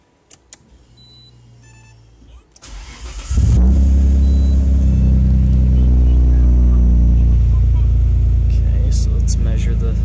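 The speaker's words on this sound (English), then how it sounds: "when I start the car up" A Nissan Skyline R32 GTR is started after a few seconds of quiet cranking, then catches and settles into a loud, steady, deep idle rumble close by.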